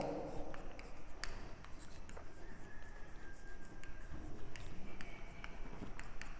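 Marker or chalk writing a math formula on a classroom board, a steady run of soft scratching strokes and taps with brief squeaks, close and continuous for several seconds.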